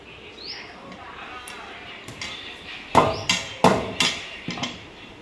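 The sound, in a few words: hog plums being chopped with a cleaver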